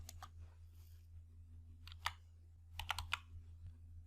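Quiet keystrokes on a computer keyboard while entering a value in an Excel spreadsheet, a few scattered clicks and a short cluster of taps over a low steady hum.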